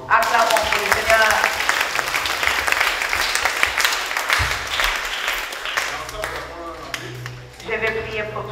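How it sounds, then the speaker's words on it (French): A church congregation applauding during a service, dense sustained clapping that fills most of the clip, fading briefly before picking up again, with voices mixed in. "Acclamons pour le Seigneur."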